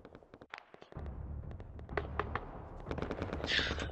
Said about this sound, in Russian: АГС стреляет еще.